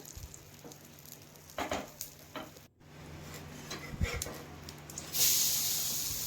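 Mung bean pesarattu sizzles in oil on a hot pan, a steady close crackle with scattered spatters that swells louder and hissier toward the end.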